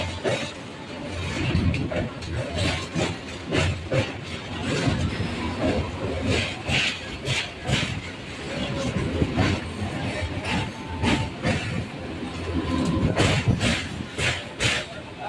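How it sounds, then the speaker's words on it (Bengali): A train crosses the Kolaghat bridge over the Rupnarayan river, its rolling rumble and rhythmic clatter heard from inside the carriage, fairly steady, with speech over it. "আমাদের ট্রেন এখন রূপনারায়ণ নদী পার হয়ে গেল।"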